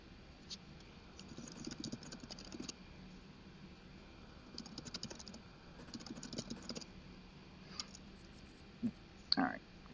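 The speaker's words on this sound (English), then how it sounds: "Opponent's typing." Quiet computer keyboard typing from an opponent during a Magic: The Gathering tournament match, coming in several short bursts of rapid soft key clicks spread across the stretch, with a few sharper clicks near the end.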